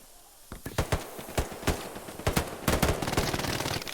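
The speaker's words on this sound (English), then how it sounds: "they're literally just gonna get shot in the MG fire" Machine gun fire on the Hill 400 battlefield in the shooter game Hell Let Loose, heard as irregular bursts of distant gunshots with sharp cracks scattered over steady battle ambience, with no talking.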